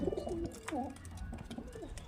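Pigeons cooing in a low, rolling series of soft calls, close by and fairly quiet, with a brief pause between phrases.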